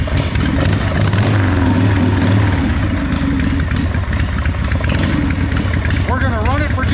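A Harley-Davidson Softail Evo motorcycle engine runs at a steady, loud idle close by, a continuous low rumble throughout with a voice speaking over it briefly.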